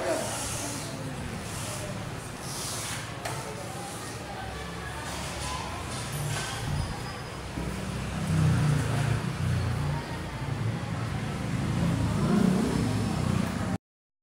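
A Euro Motor Sports E110 E3 motorcycle engine runs and revs up in a continuous buzzing drone amid outdoor noise, swelling louder in the second half, with someone talking faintly underneath.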